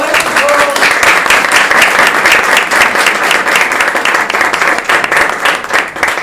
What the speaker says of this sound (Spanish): le damos un aplauso, por favor